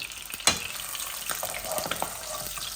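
Pieces of pangas fish fry in hot oil with a soft, steady sizzle, stirred now and then, and a sharp clink of a utensil near the start.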